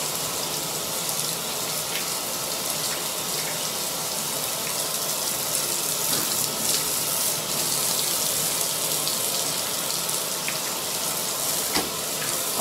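Running water rinses shampoo out of hair, a steady loud hiss of spray and splashing that continues without a break for the whole stretch, with no talking over it.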